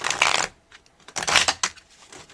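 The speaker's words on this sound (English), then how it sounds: "let's have a big girl shuffle" Tarot cards shuffled by hand in two brisk, close riffling bursts separated by a short pause, with lighter card flicks and taps trailing after.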